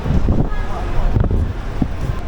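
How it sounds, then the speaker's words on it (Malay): Wind blowing at an outdoor spot in Cameron Highlands, a loud, steady rumbling buffet across the whole stretch with brief gusty bumps. "Oh, baru rasa angin dekat sini."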